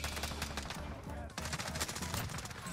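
Rapid bursts of gunfire in Call of Duty: Warzone crackle loudly and continuously, with a brief pause midway, over a dense, busy game soundscape.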